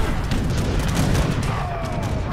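Cannon fire in a battle in Age of Empires 3, dense overlapping booms and blasts in a continuous barrage of game combat noise.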